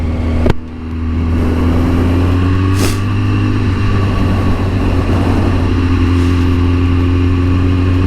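Steady, loud motorcycle engine rumble from a newly bought used bike while riding, with constant low drone and heavy wind buffeting throughout, after a brief sharp knock near the start.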